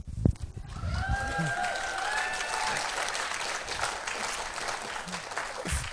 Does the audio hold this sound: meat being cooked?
no